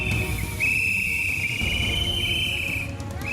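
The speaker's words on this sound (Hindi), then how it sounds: "अम्मा केवल सीटी नहीं बजा रही" A sustained shrill whistle blown by a hundred-year-old woman campaigning to save forests, held in long steady tones over a noisy outdoor background, loud and close, with no speech.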